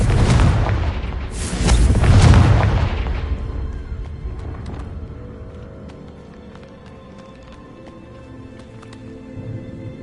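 A spell explosion in a video game: a heavy booming blast with a second burst about two seconds in, then a long rumbling decay with scattered crackles and debris, loud and close.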